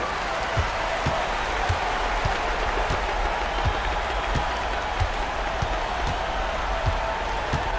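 Home crowd in a basketball video game cheering after a victory, a steady dense roar of applause and crowd noise held throughout at an even, fairly loud level.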